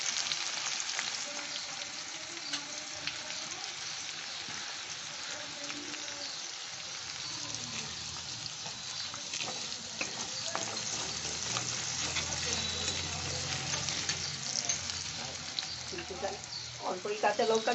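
Chopped onion frying and sizzling in a pan for doi chicken, a steady crackling hiss that grows denser and louder partway through, with occasional stirring sounds and a low hum beneath.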